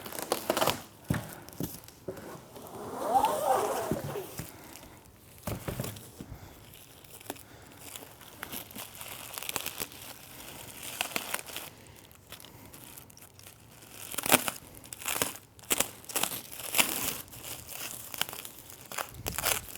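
Vinyl upholstery being handled and trimmed while re-covering the carriage of an Allegro Reformer, with crinkly, crackling rustles coming in irregular bursts at close range.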